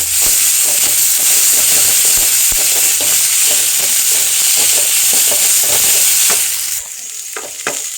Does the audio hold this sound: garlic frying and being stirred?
yes